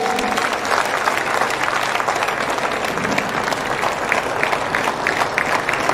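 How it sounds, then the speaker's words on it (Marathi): Loud, sustained applause from a large crowd at a political rally, dense clapping continuing evenly throughout. "जोरदार टाळ्या होत्या."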